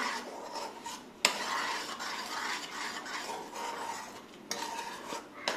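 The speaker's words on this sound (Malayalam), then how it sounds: "നല്ലോണം ഇതൊന്ന് വരട്ടിയെടുക്കാം" A ginger mixture is sautéed and stirred in a pan, with continuous scraping and rasping of a utensil against metal, broken by a couple of sharper knocks, moderately quiet and steady with no talk.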